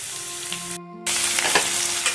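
Dry red chilies, mustard seeds and coarsely crushed garlic crackle in hot oil for a drumstick-leaf dal tempering, a steady loud sizzle with a brief dropout midway, no voices.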